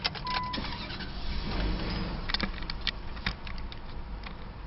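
A 2005 Dodge Ram Dakota with a Hemi V8 starts up, a muffled rumble that settles into a steady idle heard from inside the cab, with a few faint clicks.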